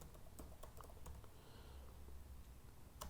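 Soft, rapid keystrokes on a computer keyboard as a presentation title is typed, irregular clicks, faint and close with no voices.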